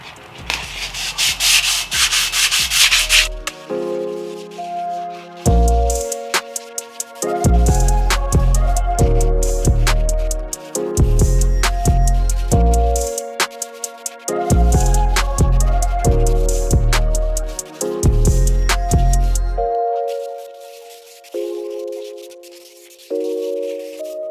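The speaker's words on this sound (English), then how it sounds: "Let's start sanding this thing down." Steady, continuous sanding of a metal part, loud and close, in long strokes that stop and start in a repeating rhythm with brief pauses between passes.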